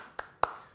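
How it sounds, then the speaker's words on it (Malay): Two sharp, separate handclaps in a lower secondary moral education classroom as a student is praised, with a short pause between them over a quiet room. "Cikgu nak bagi tepukan"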